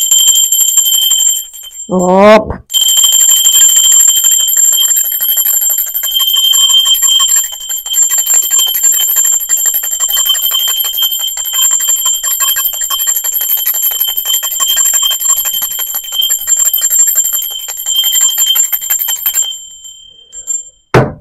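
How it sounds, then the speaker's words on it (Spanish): A high-pitched bell rings out with a sustained shimmering tone that lingers loudly for most of the clip, set in a tarot reading; a short voiced syllable is heard near the start. "Va campana, ser divino."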